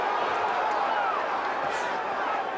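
A boxing arena crowd roars in a steady wall of noise at the end of a dramatic first round between Cooper and Moore, with a commentator's voice running over the cheering.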